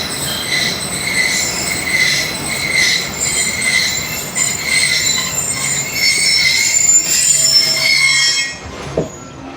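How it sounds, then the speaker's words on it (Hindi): Millat Express passenger train braking at a station in Sindh, Pakistan: loud, sustained high-pitched wheel and brake squeal over rumbling rail noise, fading out near the end. "ये ब्रेक की आवाज़ें सुन के यकीनन आपको मज़ा आया होगा, क्योंकि बड़ी ज़बरदस्त चीज़ है ट्रेनों की जो ब्रेक की आवाज़ें हैं।"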